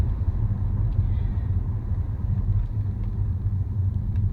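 Steady low engine rumble and road noise from inside a moving car, continuous and fairly loud throughout with no talking.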